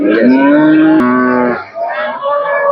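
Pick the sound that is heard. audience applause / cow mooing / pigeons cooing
cow mooing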